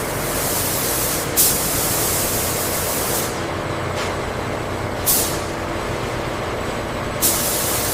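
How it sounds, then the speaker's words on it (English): A steady, loud hissing spray runs throughout as robotic spray guns apply primer to LPG cylinders in a coating booth, with three short sharper bursts of hiss spaced a few seconds apart. No voices. "Robotic spray guns apply a uniform layer of"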